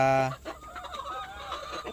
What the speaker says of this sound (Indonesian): Wah, heboh ayamnya.